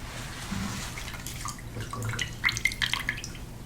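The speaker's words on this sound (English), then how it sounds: "I have some water here that I'm just going to dip this cloth into and apply." A cloth dipped into a small container of water during a skincare routine makes soft sloshing and trickling, followed by a cluster of close, crisp drips and splashes, quiet and intimate with no speech.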